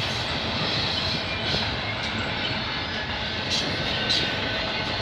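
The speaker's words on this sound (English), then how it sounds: "That's got to be a 123 train we're catching." A CN freight train rolls past at Mile 32 on the Oakville Subdivision, a broad, steady rumble and roar with no breaks, moderately loud and fairly near, with no voices.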